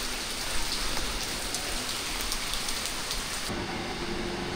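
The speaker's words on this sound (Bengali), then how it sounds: "এখানেও বৃষ্টির পানি পড়ছে" Steady rain falling in Dhaka during the rainy season, a dense continuous hiss of drops on surfaces, even and close throughout with no voices.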